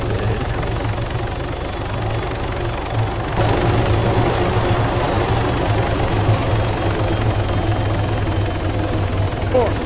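A helicopter makes a forced landing in the military video game Arma, its loud, steady rotor thrum and engine drone filling the whole stretch while players talk over it.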